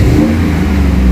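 A Chevrolet GMC engine, just back from a fuel pump repair, revs loud and steady throughout, a continuous close-up roar with no voices over it.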